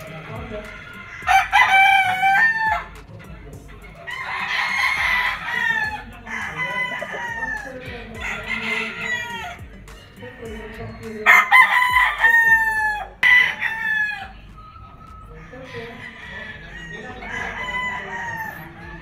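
Elgama Gray straight comb gamefowl rooster at a game farm, crowing loudly and close in several repeated calls, with other roosters crowing and clucking around it.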